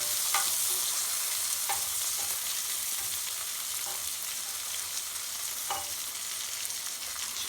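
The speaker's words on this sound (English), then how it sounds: "And the zucchini's frying up nicely." Zucchini frying in a pan, a steady close sizzle with occasional scraping stirs of a utensil against the pan at irregular intervals, and no talking.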